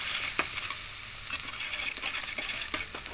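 Spices and pointed gourd sizzle gently in a pan as they are stirred. Soft scraping taps of the spoon come through at intervals over a steady, low frying hiss.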